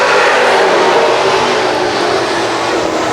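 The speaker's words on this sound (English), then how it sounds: "He'll pound the throttle, brings the field off turn number 4." Pro stock race cars roar off turn 4 on a restart at Can-Am Speedway, a loud dense wall of engine noise that holds steady as the field accelerates.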